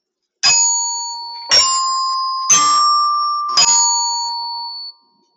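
Keyboard percussion, likely bells or glockenspiel, playing measure 6 of a piece: four bright struck notes about a second apart, each ringing on with a long sustain, close and clear with no talking.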